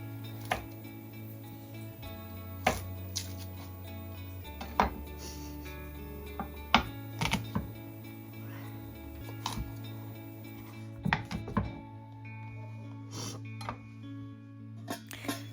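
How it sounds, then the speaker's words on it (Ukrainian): Scattered knife taps and crunchy cuts on a board as garlic cloves are pressed with a knife and cut, irregular and close, over a steady low background hum. "Я їх спочатку прижимаю ножем і перерізую"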